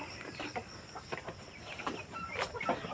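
Native chickens raised as breeding stock on a rural farm cluck in short, scattered bursts at moderate distance. A steady high background hum runs underneath, and no one talks.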